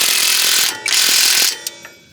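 Rapid ratchet wrench clicking while a bolt is tightened during a CV axle replacement on a Nissan Altima, two close, loud bursts of dense clicks separated by a short pause, then a few fainter clicks.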